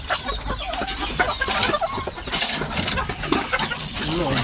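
Chickens and chicks being fed chick feed, busy clucking and cheeping close by along with shuffling and scratching, plus a brief sharper squawk partway through.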